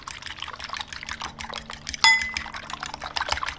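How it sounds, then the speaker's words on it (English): Milk trickles into a wide bowl for a Monte Cristo sandwich batter, a short, soft splashing pour near the microphone with a light clink of dishware partway through. "Now you might want to add a little bit of milk into here."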